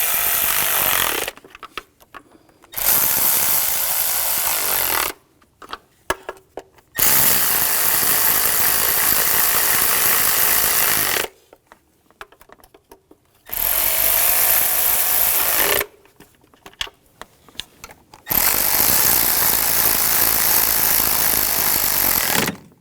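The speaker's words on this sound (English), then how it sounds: "And I'll snug these down. Starting in the middle and working your way out." Power tool, likely a cordless driver, snugging down intake manifold bolts on a 2007-2013 BMW X5 3.0L inline-six, running in several long loud bursts separated by short pauses, with no talk.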